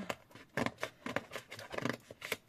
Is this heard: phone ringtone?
no